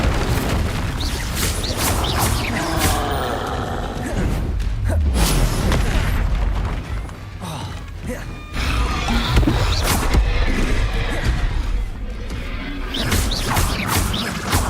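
Confringo blasting spell cast in Hogwarts Legacy, heard as a loud, dense run of booming explosions and crashing impacts that keeps on for the whole stretch, with one brief dip partway through.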